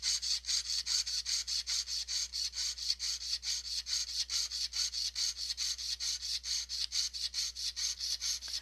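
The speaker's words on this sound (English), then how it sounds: "it's taking forever to saw today, but I feel like my saw blade is officially dull" A dull hand saw cuts through a thick piece of wire in a fast, steady rasping rhythm of rapid back-and-forth strokes that continues without a break.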